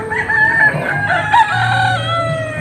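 Chickens cluck and a rooster crows at a hillside chicken coop near Angono, overlooking Laguna de Bay, the calls close, loud and overlapping in a short burst with no talk.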